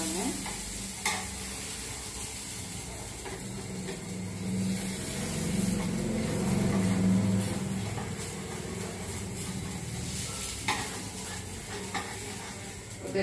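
Masala rotti made from idli batter sizzling on a hot pan, a continuous close frying hiss that swells in the middle with faint scraping and clicks, and no voice.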